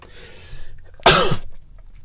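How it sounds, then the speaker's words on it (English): A single sharp, close sneeze bursts out after a stretch of quiet room tone, then fades back to near silence. "See, I'm even sneezing."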